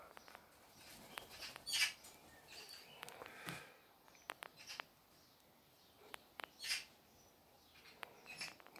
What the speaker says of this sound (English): having a bit of a chat about who let Steven Seagull land